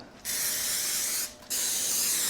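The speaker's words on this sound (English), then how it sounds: "So first I'm going to spray all the grills with" Pam cooking spray hisses onto pellet grill racks in two bursts, a short hiss and then a longer one after a brief pause, close and loud.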